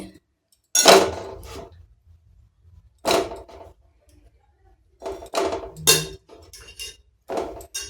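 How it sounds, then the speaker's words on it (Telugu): Brinjal pieces are dropped into a cooking pot in separate bursts: sharp clattering knocks of vegetable and utensil against the metal, with short quiet gaps between them. "ఇప్పుడు వంకాయ ముక్కలు వేసేసుకుందామండి"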